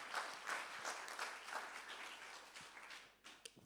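Congregation applause at a Sunday church service, a broad crackle of many hands that fades over a few seconds, with a couple of sharp louder claps near the end.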